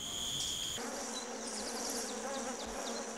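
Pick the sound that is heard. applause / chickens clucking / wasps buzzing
wasps buzzing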